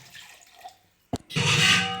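Water pours into a pot of homemade rasam, starting with a short splash and then running as a steady, close stream after a few faint drips.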